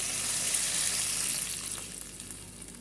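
Water is poured into a hot pan of sautéed ingredients for carrot upma, giving a loud, steady hiss and sizzle that slowly fades.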